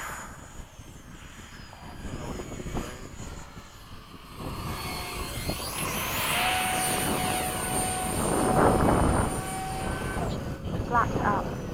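FMS 70mm EDF F/A-18 model jets doing touch-and-go passes over a runway at sunset, a rising and falling turbine whine that swells loudest around the middle and then recedes, with a person talking over it.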